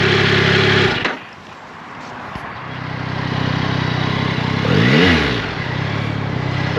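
A Yamaha YZF-R9 sport motorcycle engine drones steadily while being ridden, dropping briefly then building again with a rising rev and gear change near the end, fairly loud and without talk.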